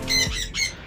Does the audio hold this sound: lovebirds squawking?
yes